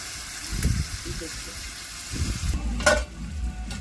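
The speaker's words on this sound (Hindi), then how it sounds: "आलू भी हम डाल दै छियै और साथे भूज लेब" Potatoes frying in a pan with cooked kidney beans (rajma), a steady sizzle with stirring scrapes and a clatter near the end, while someone talks over it.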